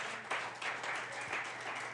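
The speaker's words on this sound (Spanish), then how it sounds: "Dale un fuerte aplauso a Cristo." A church congregation applauds during a Sunday service, a brief, fairly soft burst of scattered clapping that holds steady for a couple of seconds.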